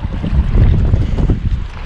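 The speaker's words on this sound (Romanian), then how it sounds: "dar ce bate vântul ăsta, ne rupe" Strong wind buffeting outdoors beside a river, a loud gusty rumble battering the microphone in uneven surges.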